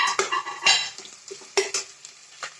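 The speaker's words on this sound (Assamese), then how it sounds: "মই এতিয়া অলপমান এনেকৈ ভাজিম" Ground garlic, cumin and ginger fry in a pan with a soft sizzle under irregular stirring clatters of a spoon against metal, close and brief.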